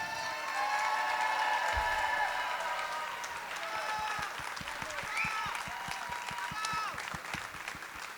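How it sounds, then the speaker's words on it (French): An audience at a live stage event applauds performers, sustained clapping from a crowd filling the room with a few cheers, steady and fairly loud, no voices over it. "je vais vous inviter tous à leur donner le plus gros applaudissement que vous pouvez leur donner"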